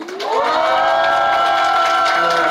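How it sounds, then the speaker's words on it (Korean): A crowd of family members and parishioners cheers loudly as a bishop announces a newly ordained Catholic priest's parish assignment, a sustained swelling roar with high excited voices that holds steady for the whole stretch. "좋은 함성을 질러주시네요"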